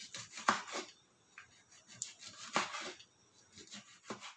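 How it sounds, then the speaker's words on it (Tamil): A knife cuts narthangai citron into small pieces on a board, making quiet, irregular scraping chops with short pauses between strokes, close by and faint. "கொஞ்சம் சின்ன சின்னதாக நல்லா கட் பண்ணி எடுத்துக்கிறேன்"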